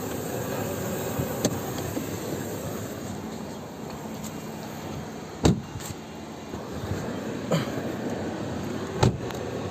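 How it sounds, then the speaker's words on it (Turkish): A car engine running with its air conditioning set to the coldest setting and the fan at full speed gives a steady, dense whooshing roar, with a few faint clicks scattered through. Nobody speaks. "Aracım yaklaşık 20 dakikadır çalışıyor."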